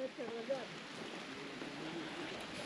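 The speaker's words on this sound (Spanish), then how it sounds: "La lluvia sigue." Steady, soft rain hisses evenly throughout over a farm field being ploughed for maize, a faint continuous patter with a brief murmur of a voice near the start.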